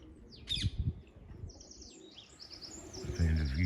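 A wild parakeet chirps in short, bright bursts outdoors, with a steady low rumble beneath the calls.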